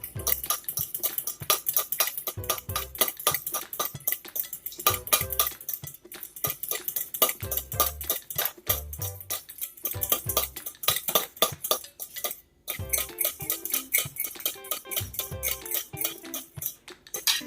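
A spoon clinks and scrapes rhythmically against a bowl while sweet and sour sauce ingredients are stirred together, with steady repeated knocks and brief pauses, close and fairly quiet.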